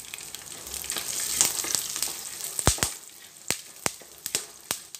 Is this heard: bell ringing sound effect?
no